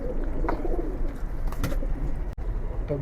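Pigeons in a loft coo softly and repeatedly over a dense bed of low flock murmuring, close by and continuous.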